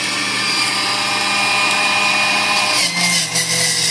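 A steady, loud motorized whir of a blender juicing vegetables, running continuously, with a brief dip in pitch near the end as the load shifts.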